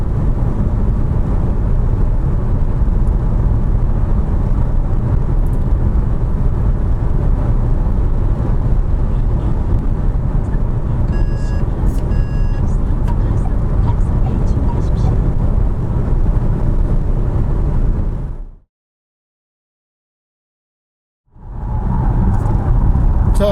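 A SsangYong Korando Respect SUV is on the road, heard from inside the cabin. A steady, loud low rumble of road and engine noise runs throughout, then drops out into a few seconds of silence before resuming.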